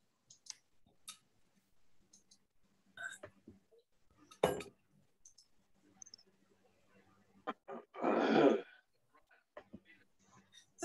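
A burst of harsh coughing stands out once among scattered clicks, taps and faint background voices.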